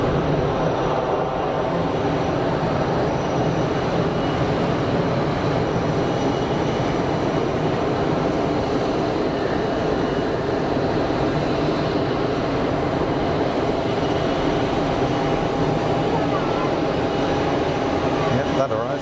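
Pegasus Airbus Neo airliner arriving at Geneva Airport, a steady, broad jet roar that holds at an even level for the whole stretch.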